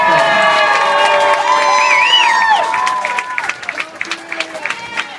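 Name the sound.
crowd applause and cheering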